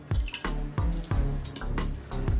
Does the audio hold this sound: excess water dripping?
yes